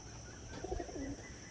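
Madrasi pigeons in a loft give one short, soft burst of cooing that is faint against quiet background noise.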